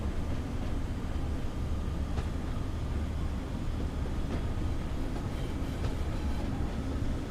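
Short noisy train running in Train Sim World 5, a steady rumbling rail drone with occasional clicks and clatter from the wheels, continuous and fairly close throughout.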